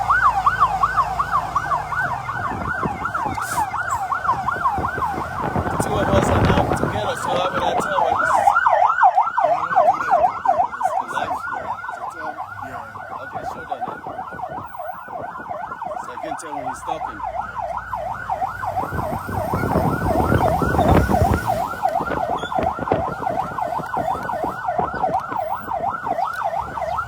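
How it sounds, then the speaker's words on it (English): Liberia National Police sirens wail continuously with a rapid rising-and-falling yelp, loud and close, with bursts of engine and road noise swelling underneath. "That's the sound of the sirens of the Liberia National Police."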